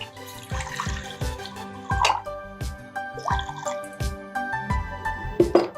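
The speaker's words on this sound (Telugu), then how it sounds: "స్టవ్ ఆన్ చేసేసుకొని వాటర్ వేసుకోండి." Water poured into a pot on a stove, a series of close splashy pours and drips in uneven bursts, several distinct splashes over a ringing resonant background, no voices.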